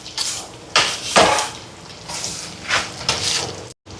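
Mashed potato and deboned fish mixed in a bowl for Jaffna fin fish cutlets: several close scraping, clinking strokes of a utensil against the bowl, with short pauses between and a brief silence at the end.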